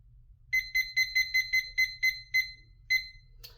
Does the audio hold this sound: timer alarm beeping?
yes